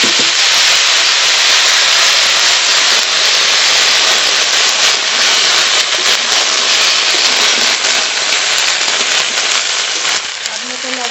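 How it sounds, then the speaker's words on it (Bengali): Cut cauliflower and potatoes go into hot oil tempered with bay leaf, dried red chillies and panch phoron, producing a loud, continuous hissing sizzle that barely changes across the whole stretch. "কেটে ধুয়ে রাখা ফুলকপি আর আলু দিয়ে দেবো"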